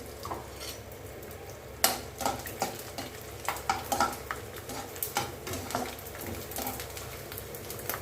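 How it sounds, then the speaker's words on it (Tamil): Millet and onion vadam fry in hot oil with a soft, steady sizzle, broken by a series of sharp ladle and pan clinks and stirring taps at an uneven rhythm. "இப்போ நம்ம வத்தலை போட்டு பொரிச்சிடலாம்."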